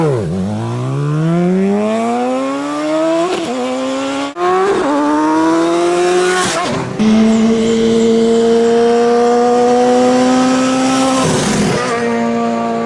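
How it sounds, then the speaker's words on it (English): A motorcycle with a slip-on exhaust revs up repeatedly, the note climbing steadily in pitch through several gear-like rises with brief dips between them, loud and close with no talk. "I absolutely love the exhaust note on these bikes."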